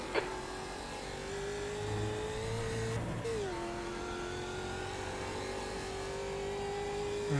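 Engine of a faster-class race car running close behind in iRacing at Zolder, a sustained drone that drops in pitch midway and then holds steady, loud with no speech.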